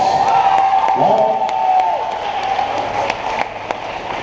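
An audience at a keynote talk applauds and cheers, the clapping steady and fairly close, with a voice and a brief tone heard over it early on.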